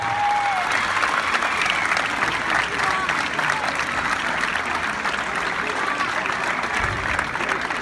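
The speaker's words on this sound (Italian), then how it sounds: "Applauso!" A crowd applauds steadily at the opening of the Sportivity sports fair, dense clapping that continues evenly throughout at a consistent, fairly loud level.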